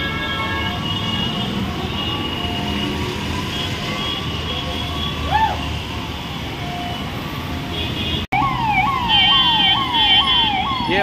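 Ambulance sirens wail amid a rain-soaked traffic jam on the Mehdipatnam to Masab Tank road, with a steady droning siren and road noise, then a louder, fast yelping siren close by.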